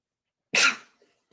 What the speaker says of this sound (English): And I got to sneeze again.